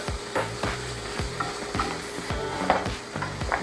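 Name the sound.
curry powder cooking in a pan for Thai tofu curry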